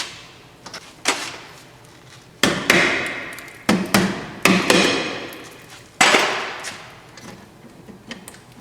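Hammer tapping a part back onto the rusty rear axle of a 2008 Honda CR-V: five or six sharp metallic blows spaced a second or so apart, close and loud, each ringing briefly.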